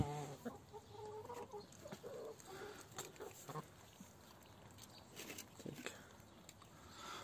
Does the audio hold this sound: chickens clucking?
yes